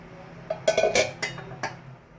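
A lid set onto a cooking pot of raw mango curry, a few close metallic clinks and a ringing clatter in quick succession, then a last light tap before fading.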